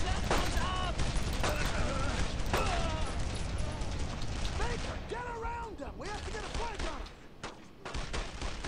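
Gunfire in the WWII shooter Brothers in Arms: Road to Hill 30 fills the scene with dense, continuous battlefield shooting and rattling volleys. Voices talk over the steady barrage throughout.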